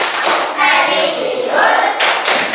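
A group of children doing a rhythmic clap chant in a school classroom, dense overlapping claps and thuds in a steady beat, loud and close with voices mixed in.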